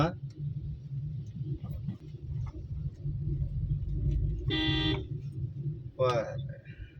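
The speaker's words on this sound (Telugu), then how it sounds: "ఈ రోడ్లో హెవీ వెహికల్స్ కూడా ఎక్కువ వెళ్తుంటాయి చూడండి లారీలు కూడా" Heavy traffic on Devanahalli main road, with lorries, long trailers and school buses, rumbles steadily while two short, loud car horn blasts sound near the end.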